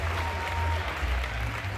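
Audience applause at a live timed art competition between rounds, a steady wash of clapping with a low rumbling hum underneath across the short span.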